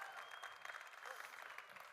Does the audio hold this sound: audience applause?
yes